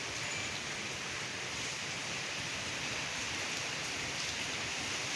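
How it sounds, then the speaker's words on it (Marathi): Continuous heavy rain pours down steadily in a city in Pune, a dense even hiss with no break and no voices. "कंटिन्यू पाऊस चालू आहे."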